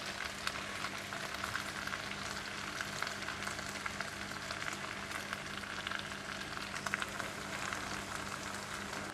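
Stir-fried lo shu fun noodles with chili garlic oil sizzle steadily in a frying pan, a continuous dense hiss with no pauses and no talking.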